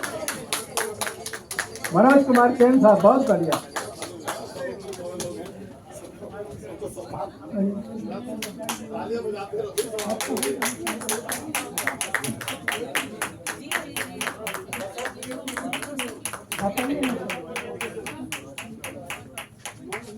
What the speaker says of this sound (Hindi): कृपया तालियों से स्वागत, तालियों से सम्मान, जोरदार तालियां